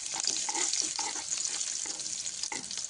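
Chopped green chili and onion fry in a small spoonful of hot oil in a pan, giving a steady, bright sizzle with occasional stirring scrapes, close and continuous.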